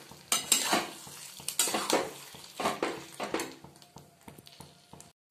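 A spoon scrapes and stirs thick, spicy paneer gravy in a pan, close up. The bursts are irregular and repeated, with a faint sizzle beneath, and the stirring slows toward the end.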